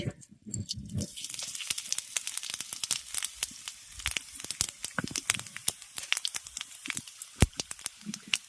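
Whole garam masala spices (cloves, cardamom, cinnamon, cumin, coriander and black peppercorns) go into hot oil left from frying potatoes in a pan, giving a close, loud crackle and dense popping sizzle that keeps going throughout.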